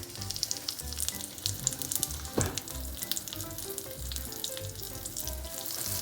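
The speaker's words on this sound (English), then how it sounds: "We made some cutlets and we put it on the pan." Rajma cutlets fry in ghee on a grill tawa with a steady close sizzle, broken by occasional spatters and a sharp crackle, and no voices over it.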